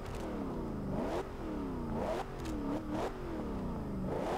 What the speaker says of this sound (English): Ooh, very nice sounding exhaust.